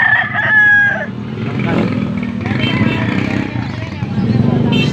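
A young white Kelso gamecock, a stag, crows loudly once near the start, and a hubbub of voices and background noise continues afterward.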